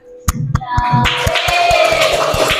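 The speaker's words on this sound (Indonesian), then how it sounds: "Beri tepuk tangan" Students in a classroom clap for a classmate who answered a question first, starting with a few sharp separate claps and swelling into brief, fuller applause with excited voices over it.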